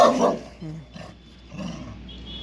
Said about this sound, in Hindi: वो चली गई, जब तक इसको खोल रहे थे हम तब तक वो चली गई, उसको भौंकने गया।